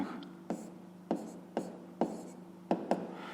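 Pen or pencil scratching out numbers by hand on paper during a fifth-grade maths exercise, a series of short sharp strokes spaced about half a second apart, close and quiet against a faint steady hum.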